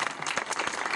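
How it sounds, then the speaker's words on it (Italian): Brief burst of audience applause at a presentation of fathers and their daughters at a local gathering, dense steady clapping lasting about a second. "Applauso!"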